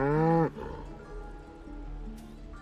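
A cow lowing in Baldur's Gate III, one loud, close moo lasting about half a second, then fading into a quiet background hum.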